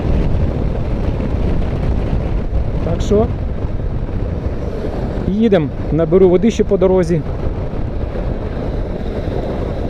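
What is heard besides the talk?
wind blowing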